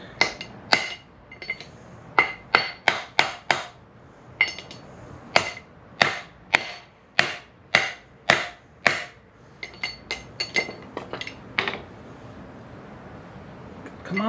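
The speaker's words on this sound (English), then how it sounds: "Takes a few whacks. It's not the easiest thing to pop out, but we'll get it done." A hammer knocks a part out of a Royal Enfield rear brake drum with a series of sharp, ringing metallic whacks at an irregular pace. The blows are close and loud, then lighter taps follow.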